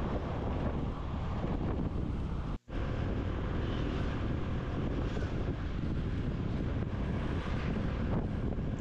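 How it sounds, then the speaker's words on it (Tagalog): Steady, heavy wind rush roars against the microphone while riding a motorcycle, for the whole stretch, with one brief dropout partway through. "Pero mahangin, masarap ang hangin."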